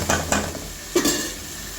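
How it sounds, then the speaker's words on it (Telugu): Tomato and curry leaves frying in masala for a fish curry, a few quick stirring scrapes and clatters over a soft steady sizzle, close up. "ఇవి కూడా బాగా ఫ్రై అవ్వాలి."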